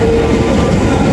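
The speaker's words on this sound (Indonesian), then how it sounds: "ini dia kereta Pangrango arahnya Bogor Sukabumi ya teman-teman" The Pangrango passenger train on the Bogor–Sukabumi line rumbles past at close range, a loud, steady roar of rolling wheels and carriages with a faint tonal hum, and no voices.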